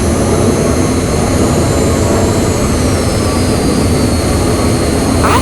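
A jet airplane engine roars steadily and loudly for the whole stretch, a dense continuous rush with a faint whining tone on top and no voices.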